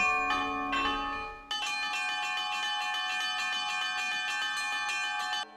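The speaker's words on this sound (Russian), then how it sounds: "Вот это вот зазвоны, самые звонкие колокола." Small, bright zvon church bells ring in a rapid, continuous peal, close and loud, with a brief pause early on before the ringing resumes.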